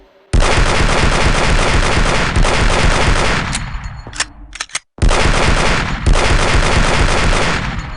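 Pistol fire aimed at alien eggs in the game AVP2: Primal Hunt: a dense, loud run of rapid shots that breaks off briefly and then starts again, with no voices over it.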